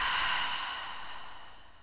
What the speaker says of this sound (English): Open the mouth and exhale it out.